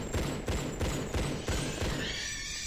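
Rapid pistol gunfire from the TRLE Redemption video game, a run of about six loud, evenly spaced shots over a steady game background, ending in a softer ringing tail.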